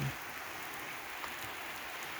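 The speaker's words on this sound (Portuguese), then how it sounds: "Chuva." Steady rain patters down on a surface, an even, continuous hiss with no voices.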